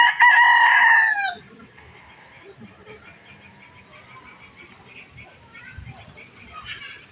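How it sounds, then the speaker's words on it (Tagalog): A rooster crows loudly and close by in one long call, followed by quiet farmyard sounds with soft clucks and faint rustling. "Gandang manok to."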